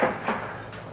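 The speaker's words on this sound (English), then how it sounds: "I fumbled for the key, and I opened the door." A ship's cabin door in a radio drama: a close creak-and-clunk at the start, then a second softer latch thump a moment later, with a faint knock near the end. No voices.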